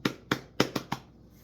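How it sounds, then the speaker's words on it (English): Five sharp hand claps from one person, close and crisp, spaced irregularly over about a second, with no voice over them. "Give yourself a hand clap"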